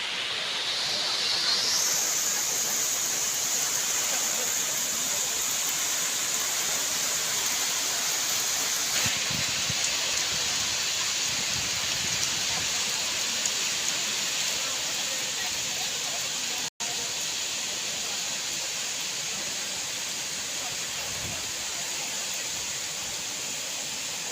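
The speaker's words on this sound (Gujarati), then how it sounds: "વરસાદ ચાલુ થઈ ગયો છે" Steady rain falling at the Galdhara Khodiyar Mata temple near Dhari, beside a waterfall, making a continuous broadband hiss that stays loud and even throughout, with a brief dropout near the end.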